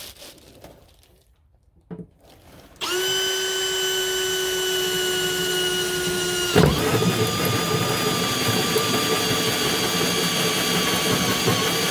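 A power drill spins up and drives a Hole Dozer hole saw through material while rerouting trailer brake wiring in a van build, a steady loud whine that dips and shifts pitch midway, after a few quiet clicks.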